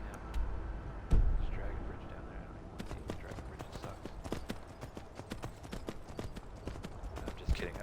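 Horse hooves clip-clop steadily in the video game Skyrim, a fairly close and regular trotting rhythm of sharp hoof strikes over a soft outdoor ambience, with one louder thump early on.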